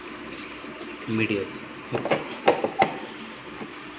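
Water flows through a three-foot, two-layer aquarium filter with sponge and filter media on a five-foot Asian arowana tank, giving a steady trickling wash under someone speaking.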